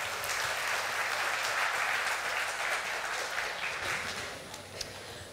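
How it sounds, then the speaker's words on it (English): A hall audience at a literature festival applauds a panel of writers and their moderator, thick and sustained, tapering slightly toward the end. "A big round of applause, please."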